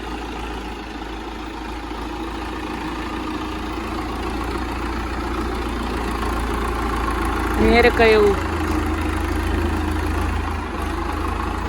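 A Swaraj 744 tractor idles in a field with a steady, low, close engine rumble throughout. A voice speaks briefly midway.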